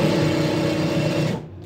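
A sewing machine stitching fabric runs with a steady, loud mechanical whir and rapid stitching pulse, then stops abruptly near the end.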